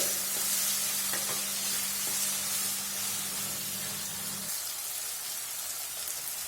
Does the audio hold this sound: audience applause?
no